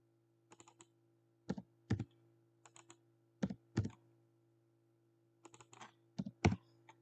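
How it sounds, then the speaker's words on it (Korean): Numbers typed on a computer keyboard while entering page margin values in the Hangul 2018 word processor: close, crisp keystrokes in short clusters of two or three taps separated by pauses, with no speech. "키보드에서 그대로 숫자를 넣으시면 됩니다"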